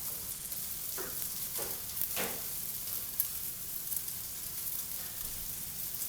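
Tofu cubes frying in a hot pan on a stove, giving off a steady, even sizzle with a few brief louder crackles and no talking.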